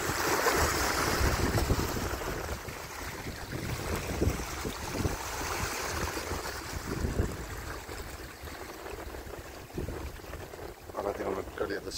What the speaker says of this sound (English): You can see the waves breaking there